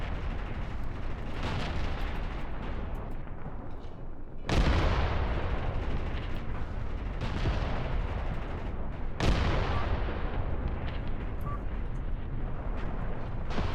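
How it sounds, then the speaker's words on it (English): Large artillery shells fire in the Graviteam Tactics Red Army retreat battle: two heavy, sharp blasts land several seconds apart over a constant rolling roar of distant gunfire and rumble. "just look at how large these shells that they're firing off are"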